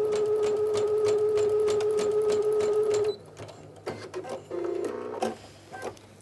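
Brother sewing machine fitted with a dynamic walking foot quilting layers of fabric with a wavy stitch, running as a steady, rapid mechanical chatter with a tonal whir for about three seconds, then slowing into scattered clicks and short bursts.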